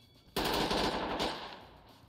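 A sudden loud burst of gunfire in the tactical shooter Ready or Not, rapid shots close up fading into a ringing tail.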